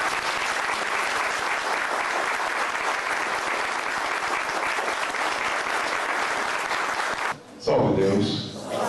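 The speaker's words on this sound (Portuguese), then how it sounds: "eu gostaria que os príncipes e o Euriceu recebessem uma salva de palmas." Sustained audience applause fills a lecture hall at a spiritual talk, steady and loud for over seven seconds before giving way to a voice near the end.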